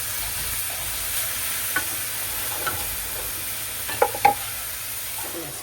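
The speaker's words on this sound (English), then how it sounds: "Give a little stir the vegetables to combine all the flavor of the seasoning" Vegetables for an omelette sizzle steadily in a hot pan, with a few soft scrapes and clicks as they are stirred, close and moderately quiet, no talking.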